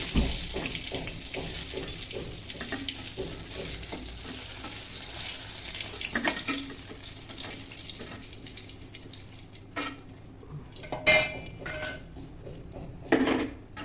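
Fried pointed gourd being lifted from a pan of hot oil, with a steady frying crackle underneath and intermittent scraping clinks of a utensil against the pan, a few sharper knocks near the end.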